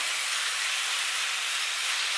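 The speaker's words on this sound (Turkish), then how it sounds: "tavukları yüksek ateşte pişmeye bırakıyorum" Chicken sizzles loudly in a pan over high heat, a constant bright hiss with no pauses and no voices.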